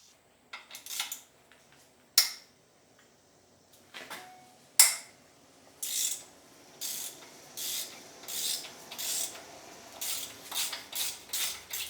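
A 13mm socket on a ratchet clicks while a motor mount is removed from a BMW M54 engine, scattered metallic clicks and clunks giving way to a run of quick, rhythmic ratcheting bursts, close and fairly quiet.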